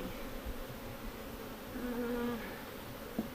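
A steady buzz of bees hums throughout a post-swarm hive inspection, swelling louder for a moment near the middle as one passes close, with a brief knock near the end.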